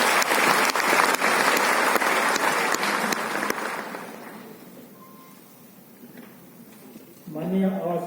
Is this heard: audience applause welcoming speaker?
yes